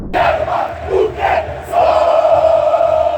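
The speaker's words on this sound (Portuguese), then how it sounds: "Confere só um pouquinho da torcida do Vasco comemorando bastante ontem em São Januário" Vasco fans celebrate at São Januário stadium, a loud crowd roar of massed cheering and chanting that swells in waves and then holds steady near the end.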